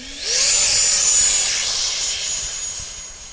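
A heavy, underpowered light aircraft's engine rises in pitch and loudness as it opens up for takeoff, then holds a steady loud drone with a thin high whine above it, close by with no speech.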